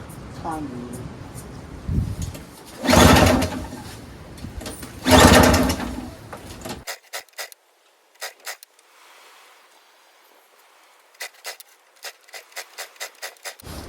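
A flooded Craftsman single-stage snowblower with a Tecumseh 5HP engine is pull-started: a few loud sputtering cranking bursts, then a run of quick rattling pulls and clicks, with someone talking between them.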